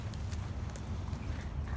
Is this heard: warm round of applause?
no